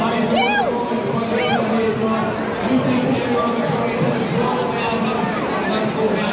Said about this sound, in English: This crowd here is unbelievable.